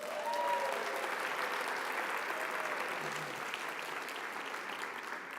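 Applause from a college district convocation audience for the board president, a broad, even wash of many hands clapping that holds steady throughout at moderate distance, with a faint voice or tone briefly audible near the start.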